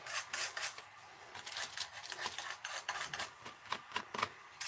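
Paint is scraped across a collage page in short, dry rasping strokes, a quiet series of scratchy swipes repeating at an uneven pace, close and faint with no talking.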